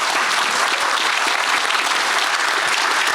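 Dense, steady applause from a large church congregation, continuous clapping throughout with no breaks.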